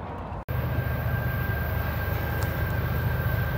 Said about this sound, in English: I just heard a train on CSX approaching at Bank Lick headed southbound.